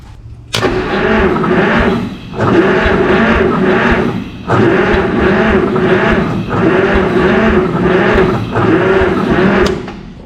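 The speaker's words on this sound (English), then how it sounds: "let's see if it spins over any faster now" A 1951 Plymouth engine recovering from being locked up cranks over on its starter in four long, loud, rhythmic whirring bursts separated by short pauses, close up and steady, without catching.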